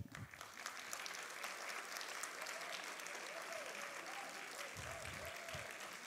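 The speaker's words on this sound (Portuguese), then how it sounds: "é para o Dr. Robério que eu peço os aplausos." A ceremony audience in a theatre breaks into steady, even applause, a dense crowd clapping at a moderate distance, with brief murmurs and a voice faintly underneath.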